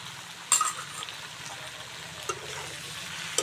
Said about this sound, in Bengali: লবণ দিয়ে নেড়ে চেড়ে ভালো করে কষিয়ে নেব।